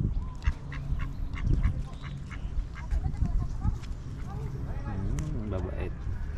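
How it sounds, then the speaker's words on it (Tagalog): Wild geese in a park calling with repeated honks and quacking cackles, several birds at close to middle distance, mixed with someone talking over them. "Gansa, wild."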